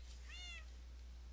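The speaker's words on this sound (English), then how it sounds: "Cats." Black cat giving a single short, faint meow indoors over a low steady background hum.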